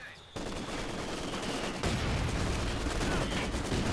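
Sustained machine gun fire from a Soviet Maxim in a 4v4 Company of Heroes match on Port of Hamburg, a loud rattling barrage that starts abruptly and keeps going, with other battle noise around it and no talk.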